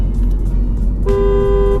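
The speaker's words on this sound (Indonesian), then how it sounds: "Nah, untuk yang klakson lamanya nih kalian denger nih ya." A Mini Cooper John Cooper Works sounds a long, loud car horn that starts partway through and holds steady to the end over a low engine idle.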